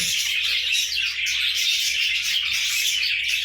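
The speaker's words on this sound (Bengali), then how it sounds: "এই পাখিগুলো এত চিল্লায় না, তো শুনতে পারবে আপনারা।" A dense, constant chatter of many small birds chirping at once, loud and close, with no pauses.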